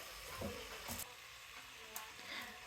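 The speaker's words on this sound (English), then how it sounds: "boneless mutton half kg, saute for 2 minutes" Boneless mutton coated in ginger garlic paste sautés in a pan, a soft continuous sizzle broken by a few spoon scrapes and stirring knocks, fairly quiet with no talking.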